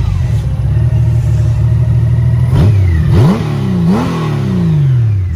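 A Honda Goldwing GL1800 flat-six with aftermarket Cobra pipes, 42,000 on the clock, idles steadily and then takes three sharp throttle blips that rise and fall back to idle, loud and close.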